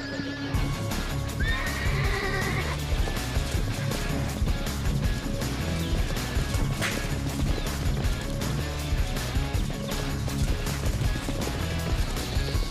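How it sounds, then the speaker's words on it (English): Wild Australian brumbies neigh and whinny over a dense, continuous rumble of galloping hooves, loud and busy throughout with a clear whinny early on. "Brumbies are still mustered in parts of Australia."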